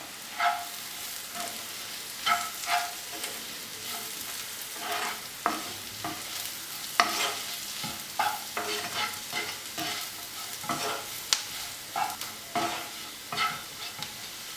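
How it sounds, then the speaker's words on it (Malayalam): Ground black pepper and salt are sautéed into a broccoli-paneer masala in a pan, with irregular scraping stir strokes over a low, steady sizzle and no voices. "പച്ചമണം മാറുന്നത് വരെ ഒന്ന് വഴറ്റാം."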